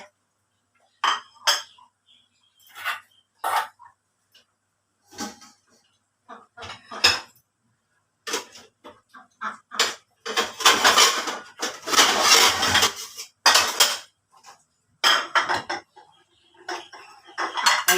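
Metal ladle clinking and scraping against a pot and bowl while serving pickled mustard greens soup with pork leg and bitter melon, in a series of short, close clatters separated by brief pauses.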